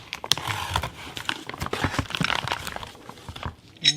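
An X-Acto knife cuts open the plastic packaging of Lucas assembly lube during an oil pump gear install on an S550 Mustang GT: close, busy crinkling, rustling and small snipping sounds for about four seconds, with no talking.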